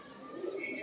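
Pigeon cooing at a pigeon-keeping gathering, a short low warbling coo rising in the middle of a brief stretch, fairly close with faint background noise.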